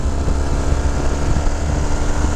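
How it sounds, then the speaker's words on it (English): A 1981 BMW R65S motorcycle engine runs steadily and quietly with a low, even drone, partly smeared by wind buffeting on the microphone. "Engine's nice and quiet."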